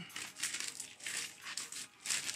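Plastic packaging crinkles and crumples in several bursts as a collected X-Men comic book volume is unwrapped, close and fairly quiet, with no voices.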